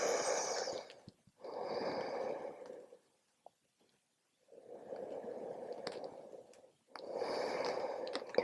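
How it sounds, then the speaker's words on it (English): Slow, deep breaths in a yoga forward fold: three or four long, airy breaths close to the microphone, with a quiet gap between them and faint nasal snort-like edges, and no talking. "taking a few nice deep breaths here."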